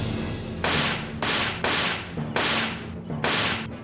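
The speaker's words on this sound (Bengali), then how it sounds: "গুলি চলছে।" Gunfire from police shooting, heard as a series of about six loud, sharp cracks at roughly half-second intervals, each leaving a short decaying tail over a low background rumble.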